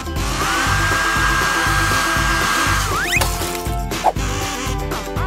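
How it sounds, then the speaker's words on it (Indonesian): A hair dryer blows steadily throughout, drying glue and glitter on a homemade craft pen, with a rhythmic thumping beat running underneath and a brief sliding tone partway through. "Kita butuh pengering rambut."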